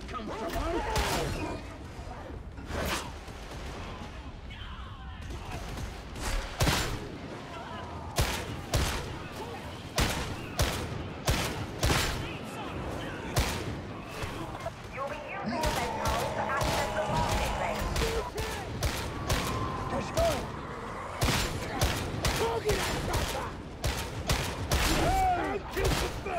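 Repeated gunshots ring out in the video game Warhammer 40,000 Darktide, played on the Heresy difficulty in a high-intensity shock trooper gauntlet at the Chasm Station mission. The shots come as sharp cracks at irregular intervals among ongoing combat noise, denser in the second half.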